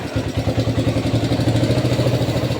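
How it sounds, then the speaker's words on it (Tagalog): A Suzuki Thunder 125 motorcycle engine, started after sitting in storage for years, idles with a steady, rapid, slightly uneven clattering pulse. The sound is close and loud, with no talk over it. "Ganun lang po magpagana ng mga na-stock na motor"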